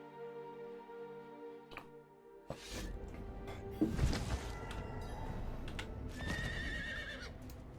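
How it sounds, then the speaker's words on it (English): In Diablo 4, a horse whinnies loudly up close, followed by snorting and the clatter of hooves and tack shifting nearby. "Get the old horse out."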